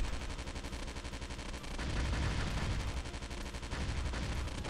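Dense, continuous gunfire in the video game Bugs Must Die, a loud rapid stream of shots with steady machine-gun-like rhythm throughout, no talking over it.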